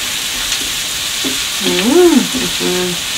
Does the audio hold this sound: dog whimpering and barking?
no